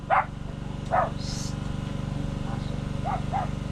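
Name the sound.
dog barking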